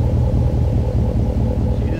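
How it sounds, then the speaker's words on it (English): A Dodge Ram Laramie 1500 pickup with a twin 3-inch exhaust and 5-inch tips idling, a deep, steady, lumpy low rumble close by with little variation. "with the twin 3-inch system, it's got a really fat idle."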